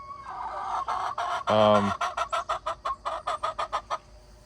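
Chickens cluck in a short run of evenly spaced, bright calls after a sustained louder squawk, a small separated flock heard close by with no talking.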